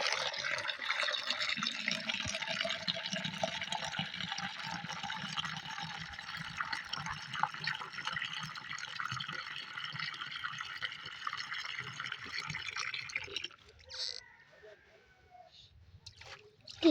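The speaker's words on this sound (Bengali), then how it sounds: "আমরা আবার পানিটা ভরে নিচ্ছি।" Tap water pours steadily into a container being refilled for watering flower plants, a continuous close rushing splash that runs for most of the stretch before cutting off into a few drips and small knocks.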